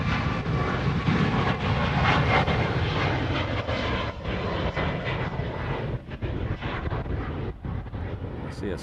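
A military tanker aircraft flies over Hawaii with a loud, continuous jet engine roar that holds steady throughout, joined by some wind buffeting.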